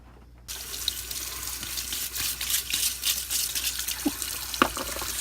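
Cold water runs steadily from a faucet into a sink, a constant hissing gush that starts abruptly and continues, with a few small clinks near the end.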